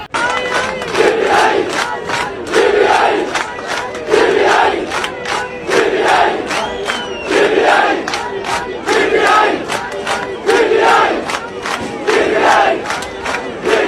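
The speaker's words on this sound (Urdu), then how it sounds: "ایک فوجی نے بھی طلبہ کے ساتھ مل کر عمران خان زندہ باد کے نعرے لگا دیے" Students and a soldier chant political slogans in unison, a loud, close crowd repeating a rhythmic call in steady pulses throughout, voices shouting together with no pause.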